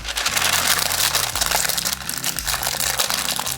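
Parchment paper crumples and crinkles for several seconds in a kitchen, a dry crackling rustle that is close and steady, heard alongside a low background hum.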